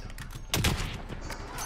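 Gunfire in Call of Duty Warzone, a fairly faint crackle of shots with one louder burst near the middle, continuing as a steady backdrop of distant fire.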